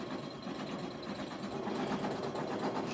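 An embroidery sewing machine stitches an appliqué for a personalized sports ball bag tag or ornament, giving a steady, close, continuous whirring hum with fast needle chatter and no voices.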